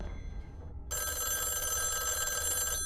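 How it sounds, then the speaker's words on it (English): A telephone rings in a Loki episode, a steady bright electronic ring starting about a second in and continuing loudly to the end over a low rumbling background. "What is up with the phone ringing?"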